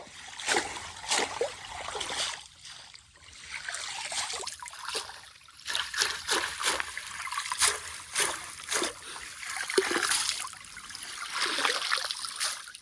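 Mangoes are washed under running water in a village setting. The water trickles and splashes in uneven bursts, fairly close and moderately quiet, and a voice is faintly heard at times.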